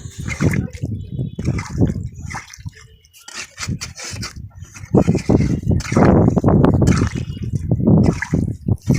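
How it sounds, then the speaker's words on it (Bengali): Water splashes into a chicken-offcut and potato curry with Malabar spinach, loud and irregular, briefly pausing midway before the pouring resumes with no talking. "বেশি করে জল দিয়ে দেবো যাতে ভালো করে সেদ্ধ হয়"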